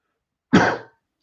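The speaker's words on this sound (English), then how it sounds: "excuse my coughing here" A single short, harsh cough, close and loud, surrounded by silence.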